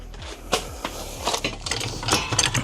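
Hammer tapping a slightly worn bolt into the rear subframe of a 2002 Mini Cooper S Cabrio, a few sharp metallic knocks at uneven intervals, close and fairly loud, with clanking in between.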